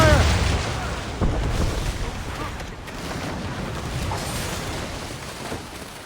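Ship cannons firing in Assassin's Creed Rogue, a naval battle: a burst of deep booms and rumbling blasts at the start, then a rolling low roar of gunfire and a loud thump, with voices calling out amid the din.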